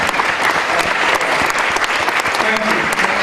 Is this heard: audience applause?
yes